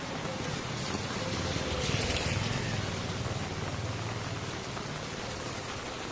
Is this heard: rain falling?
yes